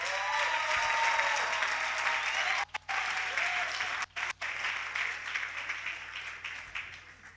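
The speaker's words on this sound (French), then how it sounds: "Est-ce qu'on peut applaudir Jésus?" A packed hall at a Christian youth gathering breaks into sustained applause, dense and steady for about seven seconds, with a few brief dropouts and a slow fade near the end.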